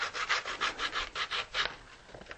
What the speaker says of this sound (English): So we'll take some sandpaper and just sand down